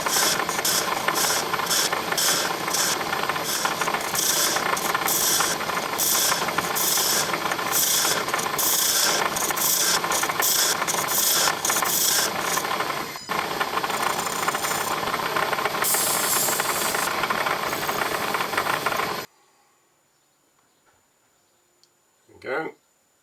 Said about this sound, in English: clean up this face now.